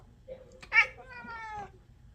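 An orange and white fat cat gives a single short meow close by, a brief quiet drawn-out call with a faint chirp before it, in a quiet room.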